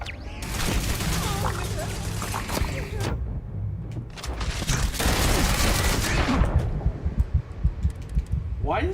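Turret gunfire in the space game Starfield, dense sustained bursts of shots roaring in two long volleys with a short lull between, loud and close, followed by scattered sharper impacts.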